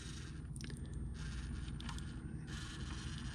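An RC scale crawler modeled on a 1941 Willys MB Jeep creeps slowly up a hand, its motor and gears giving a steady, close whirring hum with light mechanical scraping.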